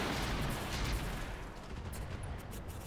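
Mech weapons firing in the video game Roguetech, a dense continuous rumble of gunfire and distant blasts over about three seconds, steady and moderately loud with no clear separate shots.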